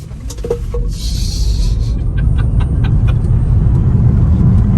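A Tesla electric car accelerating hard at full throttle fills the cabin with a deep rising rumble of road and tyre noise, a faint whine climbing underneath, with a few clicks near the start.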